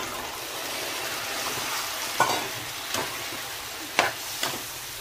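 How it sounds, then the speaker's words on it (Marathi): Steamed eel fish pieces are stirred into oily frying masala paste, a close steady sizzle broken by several sharp scraping stirs of a spoon against the pan, no voices. "यामध्ये मगाशी आपण जे वामचे तुकडे वाफलून घेतले होते ते मी घालून घेते"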